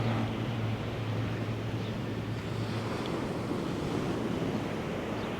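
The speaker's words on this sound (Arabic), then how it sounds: "هتلاقي بقى منظر البحر والهواء والميه" Sea waves and wind on a winter beach at Marsa Matruh, a steady, dense wash of surf with gusting wind buffeting the microphone, loud and unbroken throughout.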